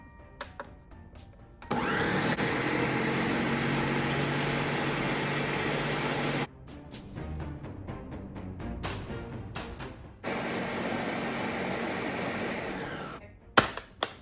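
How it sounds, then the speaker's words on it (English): A Ninja blender purees cooked pumpkin with a loud, steady whirring roar that runs for several seconds, cuts out, changes pitch, then starts again in a second long burst, with no voices. "So all the pumpkin is in my blender, my Ninja blender"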